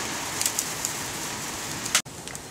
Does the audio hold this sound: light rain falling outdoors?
yes